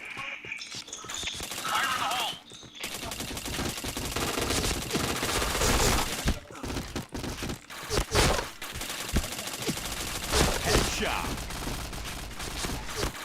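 Rapid gunfire in a shooter video game, bursts of automatic fire and single shots packed densely together over a busy, loud game mix with voices talking throughout.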